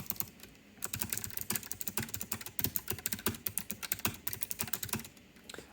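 Fast typing on a Keychron K1 mechanical keyboard with blue Gateron switches, a dense run of crisp, clicky keystrokes in quick irregular bursts, close up and alone with no voices.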